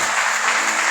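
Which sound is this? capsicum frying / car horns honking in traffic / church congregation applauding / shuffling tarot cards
church congregation applauding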